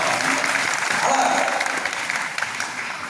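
An audience at a public talk claps steadily in a dense, continuous round of applause that fades slightly toward the end.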